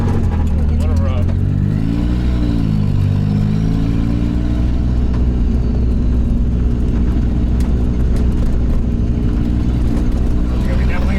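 LS-swapped Mazda RX-7 FC V8, rough-running with an exhaust leak, pulling under light throttle while driving; a loud, steady engine drone rises and falls, with a person talking over it.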